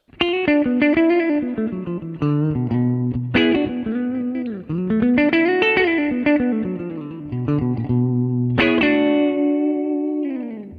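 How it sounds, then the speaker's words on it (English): Distorted electric guitar notes ring out through a Twin Reverb amp model on a Helix, each phrase trailing into a splashy spring-reverb tail. "So here we're dealing with a little bit of spring reverb,"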